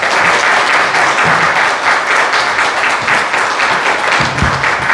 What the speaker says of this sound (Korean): 이제 우리 우수명 목사님 나오실 때 힘내시라고 박수 힘차게 치겠습니다.